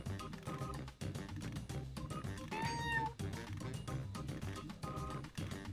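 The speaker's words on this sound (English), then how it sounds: "Oh, that little noise. Meow." A cat's meow rises briefly over a busy, loud music bed, a single drawn-out call near the middle.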